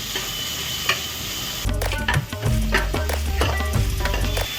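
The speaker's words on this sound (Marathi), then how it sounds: "हे पण आपण थोडा वेळ चांगलं परतून घेऊया टोमॅटो आणि कांदा पूर्ण नरम होईपर्यंत" Tomato and onion sauté in a pan for a jackfruit seed curry: a quiet sizzle, then louder spatula clatter and stirring scrapes that come in bursts with a steady frying hiss.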